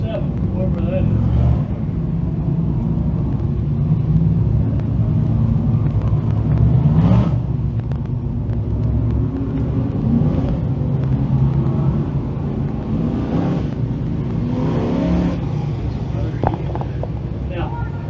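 358 modified race cars idle and rumble on a dirt track before a heat race, a steady low engine drone with occasional revs, heard under continuous announcer speech over a loudspeaker.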